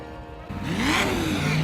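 A 1968 Chevrolet Camaro engine revs hard at a drag event, the pitch sweeping up and then falling back in one loud, close, sustained rev.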